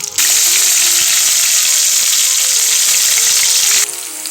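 Onions sizzle steadily in hot oil in a pan, added after curry leaves and fenugreek greens for a thotakura (amaranth) curry; a constant close frying hiss starts sharply and eases near the end, with no talking.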